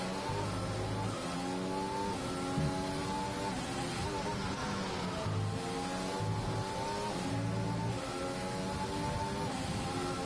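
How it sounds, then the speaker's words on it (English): Race car engine in a Canadian Grand Prix racing video game, revving steadily at high pitch with rising and falling gear-change sweeps, loud and continuous throughout, with no talk over it. "And Gernman puts the car on for fastest lap"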